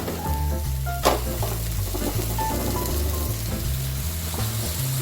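Tomatoes and paste fry in a pan with a continuous close sizzle, punctuated by a sharp clatter early on and low rhythmic rumbling beneath, with no voices.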